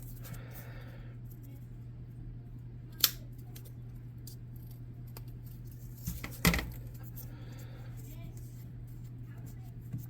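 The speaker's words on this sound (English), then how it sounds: "And I'm just going to slide my shears down. Cut that off. Snip off any excess crap I don't want on there." Shears snip excess material off a handmade miniature model, giving a couple of sharp close cuts over a steady low hum and faint background noise.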